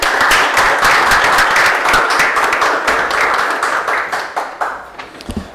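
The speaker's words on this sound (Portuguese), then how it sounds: "peço aos vereadores uma salva de palmas" Applause from councillors in a Brazilian city council chamber during an ordinary session, a dense burst of many hands clapping that holds steady, then thins into scattered claps and fades out.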